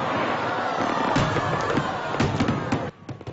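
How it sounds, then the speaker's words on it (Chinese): Spring Festival fireworks show fired simultaneously from the Xiamen and Kinmen beaches across the strait: a dense, continuous crackle of bursts with sharp booms and thuds, loud and close, with faint crowd noise beneath. "两岸同时燃起璀璨的焰火"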